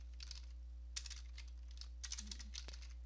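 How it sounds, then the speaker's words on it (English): Quiet, irregular keystrokes on a computer keyboard as a command is typed in to fix a Windows 10 restart loop, coming in scattered bursts of clicks with a faint steady hum beneath. "Instead, you're going to type in copy"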